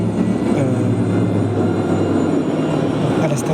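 A Montpellier TAM tram rumbles past Celleneuve station, a steady, loud rail drone with a faint rhythmic clatter of wheels over the track, close by throughout.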